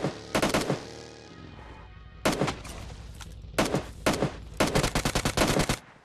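Automatic gunfire in the mobile battle royale PUBG Mobile, with several loud bursts of rapid shots separated by short pauses, the final volley long and rattling.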